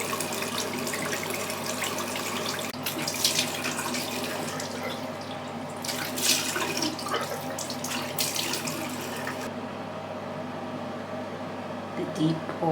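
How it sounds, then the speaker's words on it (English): Lukewarm tap water runs steadily into a sink while a face is rinsed, a continuous close splashing with brief louder gushes. "rinse it off with lukewarm water"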